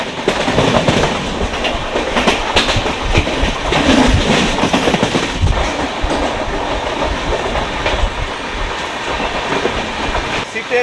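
Steady, continuous rumble and rattle of a moving 22-coach Kolkata–Jammu Tawi express passenger train on rails, loud and close, with rhythmic clatter running throughout.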